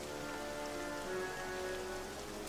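Steady rain falls through a night scene in the Strategic Mind war game, a dense even patter on surfaces with no pauses or thunder, alone and fairly soft.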